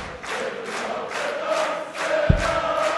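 Crowd murmur and rolling cheers fill a darts arena at the Marathon Hotel in Berlin, a steady surge of many voices with one sharp thump partway through.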